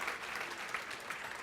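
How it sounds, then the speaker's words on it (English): Applause from an audience at an evening author talk in a salon venue, a brief stretch of faint, steady clapping heard alone at a distance. "And would you like to give a round of applause for Deborah's beautiful royal purple dress"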